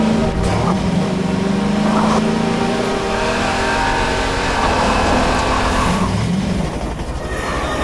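Vehicle engine driving in the video game Half-Life 2 during a train level, a loud continuous rumbling drive with rising and falling tonal whine and rattling, no break throughout.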